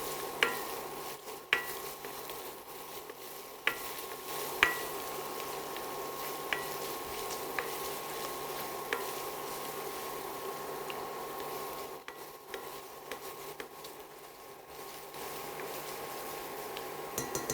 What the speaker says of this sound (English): So this is just 2 tablespoons of onion, very fine chop. Saute all that together.